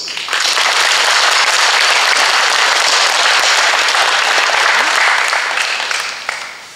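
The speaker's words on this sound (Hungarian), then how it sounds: "Szerintem tapsoljunk." Dense, loud applause from the audience at a retirees' club gathering sustains steadily for several seconds before fading toward the end, with no talk over it.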